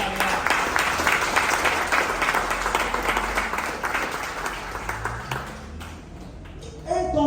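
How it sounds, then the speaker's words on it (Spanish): A church congregation in Lima, Peru claps loudly together for several seconds of dense, steady applause that fades out, after which a voice begins speaking. "Denle fuerte el aplauso a Cristo."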